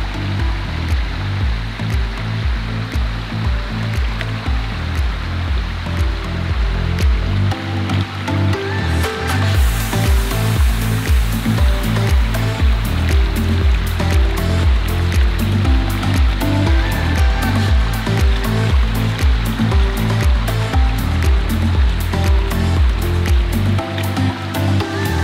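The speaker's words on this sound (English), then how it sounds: "Now, I'm gonna cross this bit of water and test out the waterproofness of these boots." Rushing stream water and sloshing splashes as someone wades across a slippery stream in Berghaus Supalite II GORE-TEX hiking boots, loud and close, with a steady churning flow and repeated rhythmic splashing steps.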